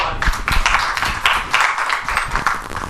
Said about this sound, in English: Big clap, Hanin.